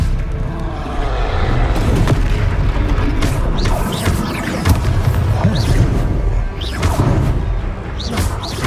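A spell cast in the Hogwarts Legacy video game lands as a heavy booming blast followed by crashing, cracking impacts and swirling magical effects, loud and dense for several seconds with no speech.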